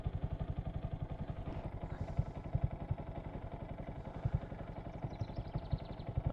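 A 2022 Honda Grom motorcycle engine runs close by at low speed with a steady, rapid chugging pulse, a small single-cylinder putter that holds fairly even throughout.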